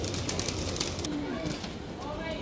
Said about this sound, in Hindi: आपको एक बार रूबरू कराते हैं मद्रासी कबूतरों से, जो मैं आज सेल में निकाल रहा हूँ